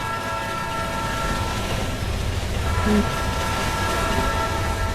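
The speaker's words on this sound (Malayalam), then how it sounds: "എങ്ങോട്ടാ ട്രെയിൻ വരുന്നു?" A train in a Roblox video game rumbles past with a rhythmic clatter of wheels and a low steady drone, constant and close throughout, with no talking.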